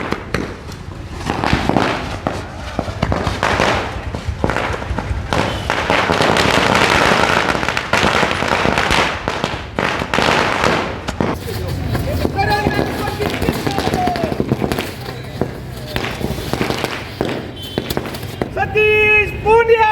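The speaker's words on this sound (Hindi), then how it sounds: "आतिशबाजी की जा रही है।" Fireworks and firecrackers go off at a street celebration of a BJP election win in Haryana, a loud dense barrage of bangs and crackles with a crowd shouting and cheering throughout.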